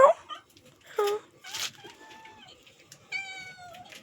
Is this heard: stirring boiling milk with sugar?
no